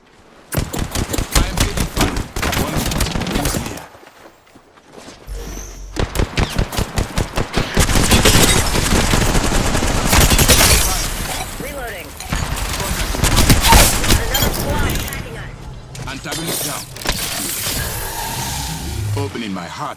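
Rapid automatic gunfire in the video game Apex Legends, with dense bursts that start and stop across the clip, loud and close amid game effects, with a voice speaking at times.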